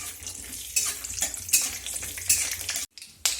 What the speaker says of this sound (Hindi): एथिरे अल्प किछि चीना बादाम को पकाई भाजीबा